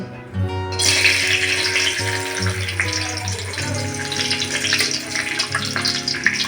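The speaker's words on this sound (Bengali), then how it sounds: "কাজুটা ভেজে নিচ্ছি।" Cashews frying in hot oil in a pan for Bengali-style fried rice, a steady loud sizzle and crackle that continues throughout, with a faint tonal hum underneath.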